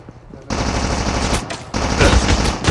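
Loud, close gunfire in the shooter game Call of Duty Mobile, weapon in single-fire mode, a rapid steady stream of shots that pauses briefly and resumes, with no talking.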